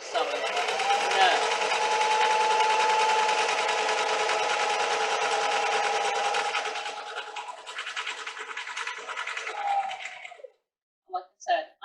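A sewing machine stitches fabric in a fast, steady whirring buzz for about ten seconds, then slows and stops, followed by a few faint clicks.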